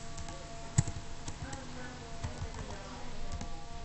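Someone types a terminal command on a computer keyboard while configuring a DNS server in a VirtualBox machine. Scattered clicks and one sharp tap are heard close up, mixed with a faint voice in the background.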